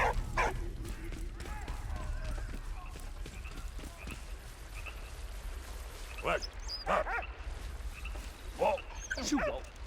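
A dog barks and yips in the World War I video game Valiant Hearts: The Great War, several sharp barks late in the scene over a steady background hum.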